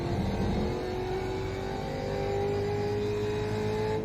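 A race car engine in the iRacing video game drones steadily with a smooth, slightly rising pitch, a continuous mechanical hum and no voices.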